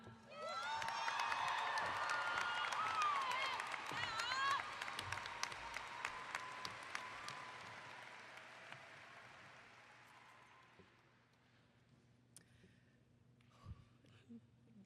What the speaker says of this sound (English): Please join me in giving a warm round of applause to the president of BSU